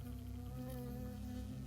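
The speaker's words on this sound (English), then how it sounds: "I got stung by a bee." A bee buzzes close by in the video game Firewatch, a steady insect drone that holds for the whole moment with no talking over it.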